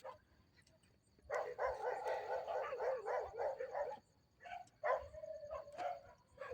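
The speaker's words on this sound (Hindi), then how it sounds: "एकदम से कुत्ते भौंकने लग गए सारे।" Several dogs bark at night in a Christian cemetery in Karachi, with bursts of overlapping barks and yelps at mid distance, pausing briefly before starting again.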